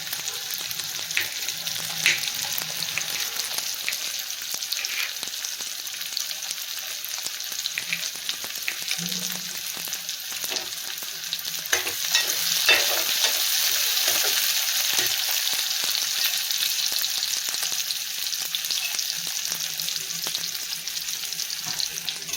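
Tomatoes sautéing in a pan for sundakkai kara kuzhambu, a steady close sizzle with intermittent scraping stir strokes, rising slightly louder midway, no talk.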